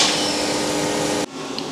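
Lathe parting off a steel valve guide for a Volvo B230 16-valve engine build: a steady, loud broadband cutting whine and rumble that stops abruptly near the end, leaving quieter shop noise.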